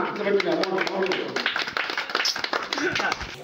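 An audience at a village prize-giving ceremony claps in scattered, uneven bursts of sharp slaps, mixed with crowd noise and voices talking over it.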